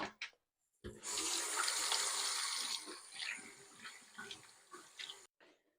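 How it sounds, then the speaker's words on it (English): Running tap water splashes into a bathroom sink as hands are washed, a steady rushing flow for several seconds that breaks into irregular splashes before stopping, with no talking. "wash my hands."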